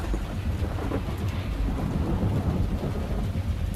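Heavy rain pours steadily with a deep, rumbling roll of thunder underneath, a dense continuous wash of sound with no voices.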